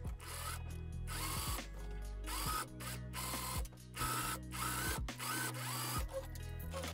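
An overlocker sews the side seam of a summer dress skirt, a close, steady mechanical whirring in bursts that start and stop, with a rapid rattling stitch rhythm.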